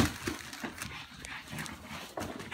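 Dogs run around indoors during a family Christmas gathering, breathing in rapid panting bursts with scuffling movement, fairly close and loud, with no talk.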